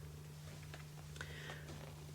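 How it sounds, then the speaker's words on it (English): A cat lying on a lap purrs softly in a low, continuous drone, faint beneath a steady hum in a quiet room. "If you hear a slight purring noise, that is because my cat is on my lap as I'm reading."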